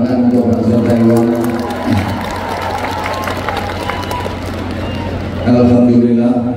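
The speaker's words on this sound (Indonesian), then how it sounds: "Tepuk tangan untuk banser Taiwan." An audience applauds and cheers at an Islamic religious gathering in Taiwan, a dense wash of clapping and crowd noise for a few seconds in the middle, with someone talking over a microphone before and after.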